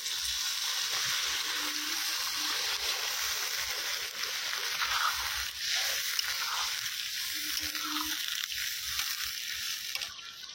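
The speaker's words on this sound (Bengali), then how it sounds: "এরপর সামান্য পরিমাণে জল দিয়ে দেওয়া হবে।" Water poured into a pot of sizzling potato curry with spices, a steady close frying hiss and faint splashing running continuously throughout.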